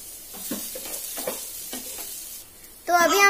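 Curry leaves dropped into a hot pan burst into a sharp, loud crackling sizzle near the end, after a stretch of quieter spoon clinks and scrapes; close and with no talk.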